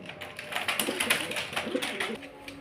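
Allahabadi Kaldum pigeons coo softly and repeatedly over a rustling, busy background, with low throaty calls rising and falling throughout.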